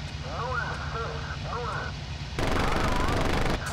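Aircraft gunfire in the IL-2 flight sim during a multiplayer Fall Gelb campaign mission, with Hurricane fighters shooting at each other: a steady engine drone under radio talk, then a louder, dense stretch of firing near the end.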